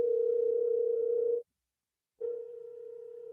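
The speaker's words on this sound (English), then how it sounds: "So we're going to give Troy a phone call here" A steady telephone dial tone hums loud and close while a call is placed for a radio show broadcast, cutting out briefly for under a second before resuming alone without any talk.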